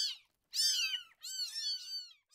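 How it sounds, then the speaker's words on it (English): A kitten, given as a birthday gift, meows up close: three clear high-pitched meows in quick succession, the middle ones longer and drawn out, with brief silences between. "I got him a kitten."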